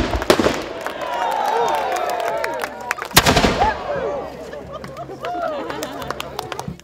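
Cannon fire at a recreated 1464 castle siege: a single loud, sharp boom rings out mid-clip over crowd murmur, with outdoor rustle and chatter before and after.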